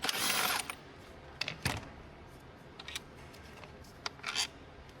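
Ratchet working 13 millimeter bolts loose on a panel of a 2022 BMW 228i, with a series of close clicks and metallic rattles, some sharp and some faint, spread unevenly over a few seconds.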